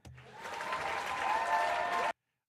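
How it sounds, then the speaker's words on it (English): Short applause sound effect, a burst of crowd clapping that swells for about two seconds and then cuts off abruptly into silence. "Where's my applause?"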